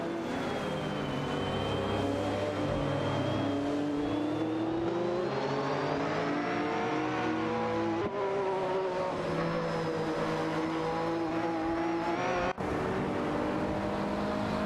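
Lamborghini Diablo SV and Ferrari F40 LM race cars dueling in a racing game, engines droning and revving through shifts for a long continuous stretch, loud and close with no talk.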